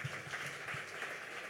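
A church congregation applauding together, a steady wash of clapping held at an even level throughout, fairly distant and diffuse.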